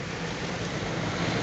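Rain pours in Solo, a dense, even hiss of heavy drops with no pause, close and steady throughout.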